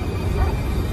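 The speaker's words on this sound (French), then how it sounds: "son chien s'est mis à aboyer, ce qui l'a réveillé" A dog bark in the early-morning hours in Bucks County, a single short, loud burst close by, heard on its own without talk.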